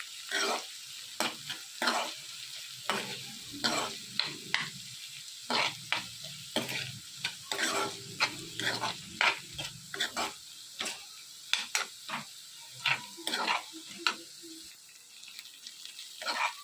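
Bitter gourd fry being stirred with salt in a pan: repeated scraping and clinking strokes of a spatula against metal in an uneven rhythm, with a faint background sizzle and no talk.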